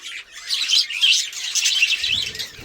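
Rapid, high-pitched chirping from small birds, continuous and close, with overlapping tweets filling the whole stretch.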